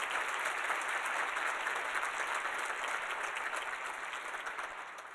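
A large audience claps steadily and loudly, a dense wash of applause that tapers slightly toward the end.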